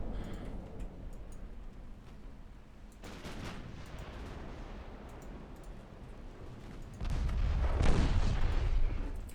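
Naval guns fire on a destroyer in the Ultimate Admiral Dreadnoughts naval combat game, a booming salvo swelling near the end over a rumbling battle background.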